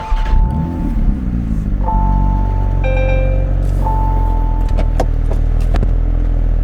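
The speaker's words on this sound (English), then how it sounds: "I'm gonna get this thing started up right away to get the AC going a little bit" A Porsche 911 GT3 starts up on a hot day. A starter whir gives way to a loud idling rumble, and the car's electronic warning chimes sound steadily over the engine.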